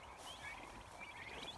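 Faint turkeys gobbling in the distance on a farm, a couple of short warbling calls over a soft outdoor background hiss.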